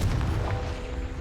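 A Confringo fire spell explodes in Hogwarts Legacy, a deep rumbling boom that starts loud and fades out over about a second.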